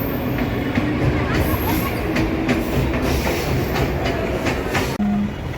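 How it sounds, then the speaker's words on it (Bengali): A commuter train bound for Sealdah passing beneath Bally station, a loud continuous rumble with clattering wheels and faint squeals, steady throughout with a short sharp knock near the end. "এই যে শিয়ালদা যাওয়ার ট্রেন।"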